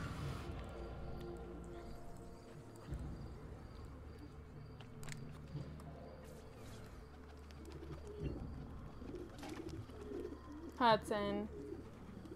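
Pigeons coo softly at a rooftop pigeon coop in Assassin's Creed II, a few low rounded calls over faint game ambience and music, with a brief fluttery burst near the end and a voice speaking.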